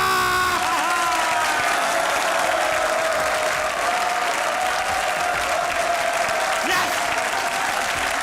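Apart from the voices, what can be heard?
applause and cheering from studio audience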